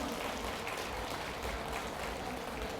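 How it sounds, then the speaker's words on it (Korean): Audience at a Buddhist lecture at a Buddhism expo breaking into steady, dense applause, a soft even wash of many hands clapping together with no talk over it. "박수 한번 쳐볼까요?"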